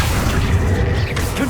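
A Bombarda spell blast in Hogwarts Legacy, a brief, loud booming burst with a low rumbling body and a short swishing tail.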